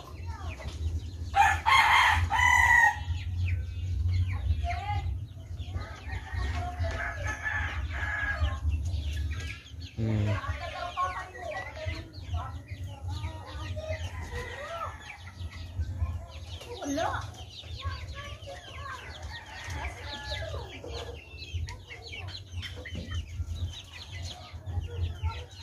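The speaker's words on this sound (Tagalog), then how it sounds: "Rhode Island Red ng mga manok." Rhode Island Red chickens cluck and murmur throughout, with a rooster crowing loudly early on, set against a low steady hum of a farmyard.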